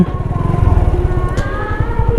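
A motorcycle engine idling close by at a riverside ferry landing, a loud steady low putter with rapid even pulses.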